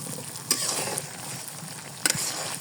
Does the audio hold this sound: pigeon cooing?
no